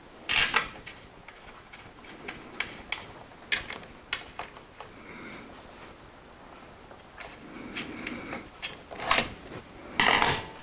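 A Carbatec Pro router table lift mechanism being lowered, a series of close mechanical clicks, ticks and gear rattles coming in irregular bursts, some louder and sharper than others.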